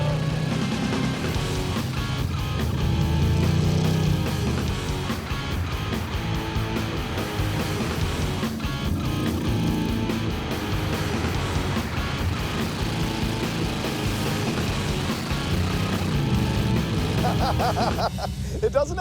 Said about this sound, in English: Never done a donut in a limo before.